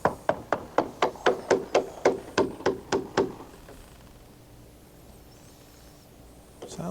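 Quick, even hammer raps sound on the hull of a 2001 Sea Ray 460 Sundancer being surveyed, roughly a dozen close knocks over three seconds, then near quiet with faint background noise.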